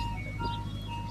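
A parked ice cream truck plays its jingle close by, a faint, thin melody drifting over low background hum.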